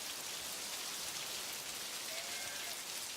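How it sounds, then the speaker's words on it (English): Steady rain patters continuously on a surface, an even, close wash of droplets with no voices and no breaks. "All around they could hear the rain pattering, pattering."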